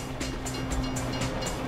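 A train rolls past in the GTA V video game with a steady rumble. Faint rhythmic clatter from the wheels sounds about every quarter second, fairly close.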